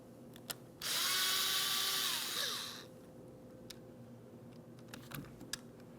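A power driver whirs for about two seconds, backing Phillips head screws out of the master power window switch panel on a 2003-2008 Toyota Matrix, followed by a few small clicks and taps.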